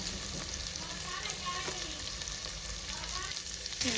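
Grated coconut palya with salt frying in a pan, a soft steady sizzle with faint stirring scrapes, fairly quiet and continuous.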